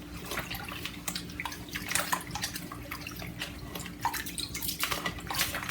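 Medium rice being washed in water in a home kitchen, soft irregular sloshing, swirling and dripping sounds close by, fairly quiet and continuous, with no talking.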